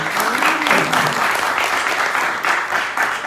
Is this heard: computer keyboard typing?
no